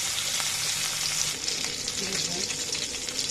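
Onion frying in a pan for a Bengali bharta, giving a continuous, even hiss of sizzling oil that holds at a constant level throughout with faint stirring beneath.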